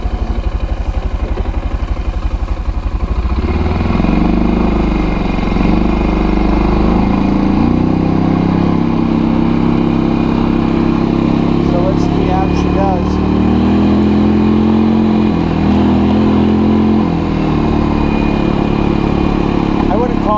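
A Kazuma Jaguar 500 4x4 ATV engine drones loud and close at nearly 30 mph while towing small motorcycles, its pitch rising and falling steadily. Someone talks over it.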